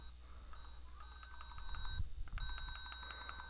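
A cheap Dollar Tree toy phone gives off a tinny electronic melody of high beeping tones when its back button is pressed, with two short bursts heard close up against a faint background hum.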